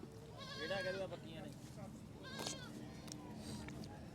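A couple of goat bleats rise over background chatter at a goat market, with people talking nearby throughout.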